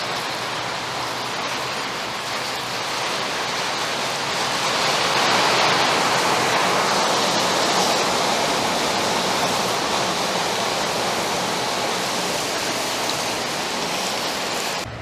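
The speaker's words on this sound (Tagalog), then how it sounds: "Lalakas, hihina pa yung ulan." Heavy rain from a storm pours down in a continuous, dense roar that swells slightly and holds steady, with no voices over it.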